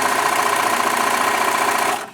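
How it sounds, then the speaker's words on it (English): Sewing machine stitching a chain stitch: a steady, fast mechanical whir and rapid ticking that runs continuously for about two seconds, then stops abruptly. "And it sews over the open air in between and gives you this nice little chain of stitches"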